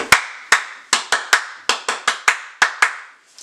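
Fast bursts of close, loud hand claps from someone psyching up during a Hasbro Hearing Things lip reading game, roughly a dozen sharp claps in uneven rhythm with brief pauses, no talking.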